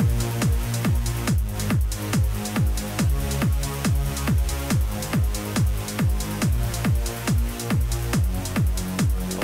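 Looping electronic music with a steady beat whose volume pumps rhythmically from inverted sidechain compression in FL Studio, swelling and dipping on every pulse in a repeating pattern.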